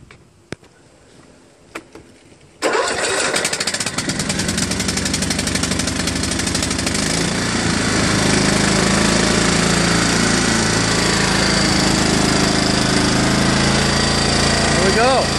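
A John Deere LA105 lawn tractor engine is cranked and fires after a few faint clicks, then runs loud and steady close by with a rapid chugging beat that rises slightly and holds.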